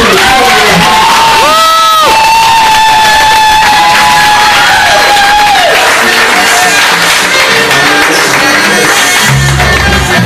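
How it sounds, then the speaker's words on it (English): A crowd at a first-book release celebration in the Bay Area claps and cheers loudly for Latoya, the sound swelling into whoops and shouts that run continuously for about ten seconds, with music-like tones and voices mixed throughout. "Please clap it up for this woman"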